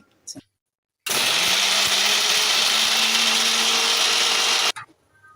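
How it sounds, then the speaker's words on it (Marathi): Mixer grinder grinding crab legs with water, a loud steady whirring drone lasting several seconds that starts and stops abruptly, with brief clatter before it. "हे आता मी थोडंसं पाणी घालून वाटून घेणार आहे मिक्सरमध्ये"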